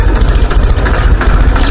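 A Farmtrac tractor engine idles close by with a loud, low, chugging throb that stays steady throughout.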